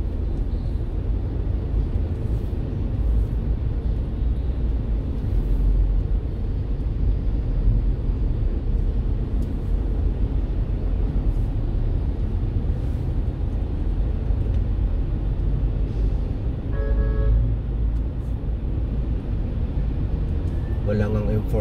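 Road traffic along EDSA produces a steady, dense rumble of passing vehicles that continues unbroken from start to finish.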